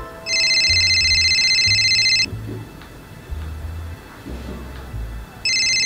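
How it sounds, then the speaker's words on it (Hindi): A phone ringtone rings loudly in bursts, a steady electronic chiming tone that stops, then starts again near the end, with faint low sounds between rings. "क्या हुआ पापा, फोन क्यों उठा रहे हो?"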